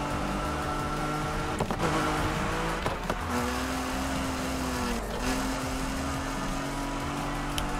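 A tuned classic car drives in Need for Speed Heat, its engine a steady mid-level drone with shifting pitch, brief tire and skid bursts near the second and fifth seconds.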